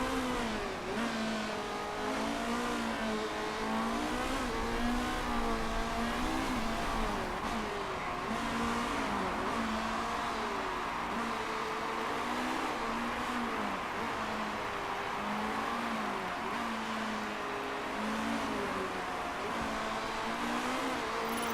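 Race car engines from the Motorsport Manager racing game, a steady wavering drone of revving motors that holds loud and continuous throughout with no talk.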